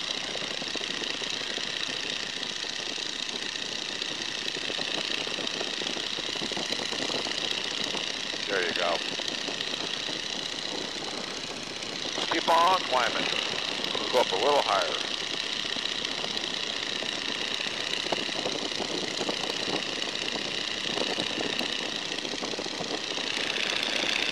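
A 1942 Boeing Stearman biplane engine runs as a steady, even drone, with voices talking over it throughout and a brief surge in the middle.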